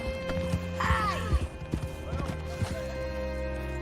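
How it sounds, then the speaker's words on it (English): Horse hooves clip-clop at a walk in Red Dead Redemption 2, a few uneven close steps over game ambience, with a brief whinny-like sound partway through. "Hitch your horse up here."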